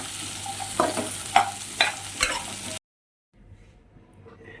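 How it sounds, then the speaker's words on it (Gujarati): Onion, tomato, garlic, ginger and chilli sauté over low heat in a pan, giving a close, soft sizzle broken by several sharp stirring clatters before the sound cuts off briefly and returns much fainter. "ધીમા તાપે થોડા અધકચરા સાંતળી દઈશું."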